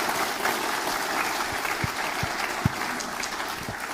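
An audience applauds Crown Prince Haakon of Norway at a formal speech event, a steady wash of many hands clapping throughout with a few sharper individual claps standing out.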